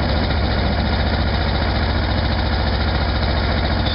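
A motorbike engine just started runs at a fast idle, somewhat above normal idle speed, with a steady, even drone that stays loud and unchanging throughout and no voices.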